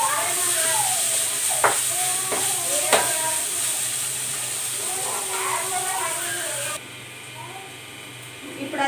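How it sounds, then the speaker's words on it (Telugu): Ginger garlic paste frying with onions in a pan for fish curry, a steady sizzle and hiss with a few stirring clinks. A voice talks over it, and the sizzle drops away near the end. "ఇప్పుడు కొంచెం జింజర్ గార్లిక్ పేస్ట్ వేసుకుందాం. దాన్ని పచ్చివాసన పోవాలండి. పచ్చివాసన పోయే వరకు కూడా అది ఫ్రై చేసుకోవాలి"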